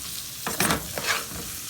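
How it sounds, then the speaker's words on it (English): A spoon stirring African peanut butter sauce in a pot on the stove, a few scraping swishes over a steady background sizzle, close and clear with no talk. "So we're going to mix it again now."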